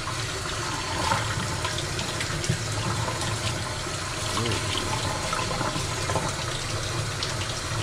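Hot water runs steadily from a tap in a continuous rushing stream, fairly close, while a tie-dyed tee is rinsed, with faint clatters now and then.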